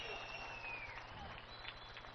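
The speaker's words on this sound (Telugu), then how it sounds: "మీరు కూడా గట్టిగా చప్పట్లు కొట్టి ఆశీస్సులు ఇవ్వాలి" Faint, steady applause rises from an audience at a public event, a soft continuous patter of many hands heard at a distance.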